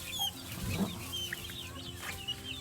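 Chicks and hens on a farm, several clucks and soft peeping calls close by over a steady background hum, with no speech.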